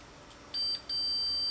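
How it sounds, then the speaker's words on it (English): A multimeter in continuity mode beeps while testing a lead on a 1977 Sencore Super Mack CRT tester: two steady electronic tones, one short, then one held, clear and close. "go to beep mode"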